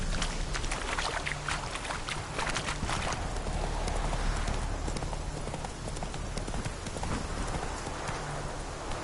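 Roach the horse trotting in Witcher 3, hooves clip-clopping in a steady, close rhythm over soft ambient ground noise, with no voices.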